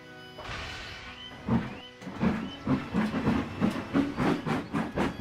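In Trainz 19, a steam locomotive's wheels slip as it starts, giving a quickening series of loud, rhythmic chuffs with a brief whistle-like tone near the start and no talking.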